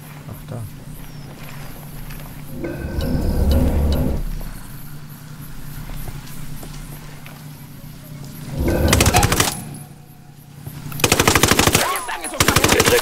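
Rapid bursts of gunfire in the video game Ghost Recon Wildlands rattle out in several loud volleys, with quieter game ambience and faint movement sounds between them.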